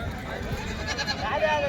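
Goats bleat at a village goat market amid steady chatter, a few short calls rising over nearby voices and crowd babble.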